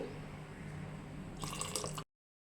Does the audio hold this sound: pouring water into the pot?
yes